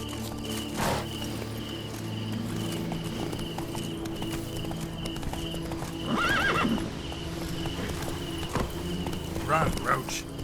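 Hooves of the horse Roach clip-clop steadily through The Witcher 3's Toussaint, with a whinny or two breaking out near the middle and again toward the end over faint insect chirps and ambient game music.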